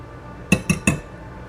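Whisk tapping against a mixing bowl while making an applesauce oatmeal bake: three quick, bright metallic clinks in a row, close and clear over a quiet room.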